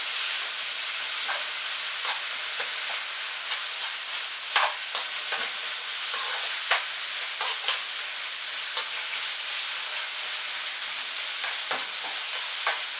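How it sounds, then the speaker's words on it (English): Bacon sautéing in a pan for chicken carbonara sizzles steadily and close, a continuous hiss with scattered crackles and pops and occasional stirring scrapes, without any talk. "saute these two together until the bacon are cooked and get it golden brown"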